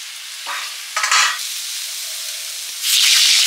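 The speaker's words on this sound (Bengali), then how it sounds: "ডিমা শাকগুলো প্রথমে হালকা ভেজে নিচ্ছি নুন দিয়ে।" Leafy greens (gime shak) frying with salt in a pan make a close, hissing sizzle in short bursts as they are stirred, ending in a louder rush of frying, with no talking.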